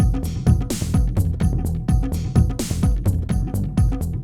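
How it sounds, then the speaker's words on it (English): Tabla pitched down into a deep, thudding loop, with low booming strokes and ringing slaps repeating in a steady rhythm, loud and continuous with no voices. "I'm going to pitch the tabla down"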